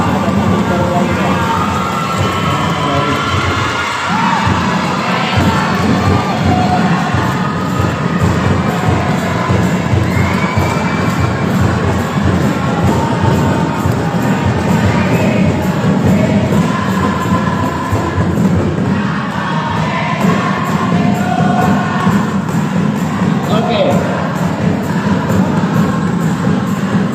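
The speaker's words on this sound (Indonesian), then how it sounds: "Tepuk tangan untuk peserta pertama atas nama keluarga." Audience at an Islamic boarding school recitation audition applauds and cheers the first participant, a sustained loud crowd noise with shouting children that fills the whole stretch.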